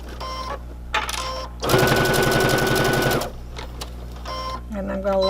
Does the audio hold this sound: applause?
no